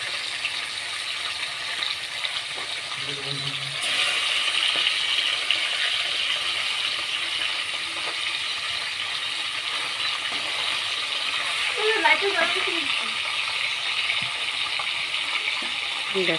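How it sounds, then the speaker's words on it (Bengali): A 1 kg glass carp frying in hot oil in a pan, giving a steady, fairly loud sizzling hiss that runs throughout with occasional crackles and pops. "দেখো 1 কিলো ওজনের মাছ আমি ভাজা দিছি। দেখো ভাজতেছি আমি মাছ।"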